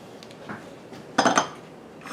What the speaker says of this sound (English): I've got my jars over here.